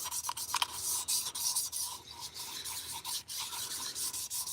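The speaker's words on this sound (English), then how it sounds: "I don't even know why the hell I'm still sanding this shit" An R&D cylinder being sanded by hand, rhythmic rasping strokes rubbing back and forth close up, with short pauses between passes and no voices.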